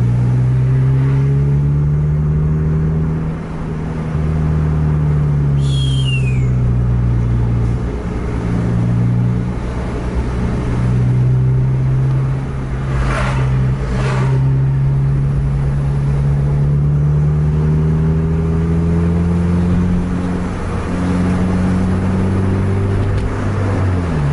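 Heavy trucks crowd a road before dawn, a deep, steady engine drone rolling on close and loud for the whole stretch, with a brief high whine cutting in early.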